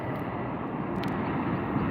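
Delta airliner with the 100th anniversary livery at Salt Lake City International Airport, a steady broadband engine roar held at even loudness throughout, with no voices.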